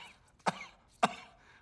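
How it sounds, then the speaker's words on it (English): Two sharp, dry coughs about half a second apart, quiet and close, each trailing off briefly in an otherwise hushed comedy-film scene. "Cough."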